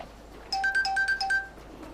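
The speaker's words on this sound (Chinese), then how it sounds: "我接个电话。" A mobile phone ringtone plays a short melodic tune of repeated bright electronic notes, starting abruptly and ringing clearly over a quiet room.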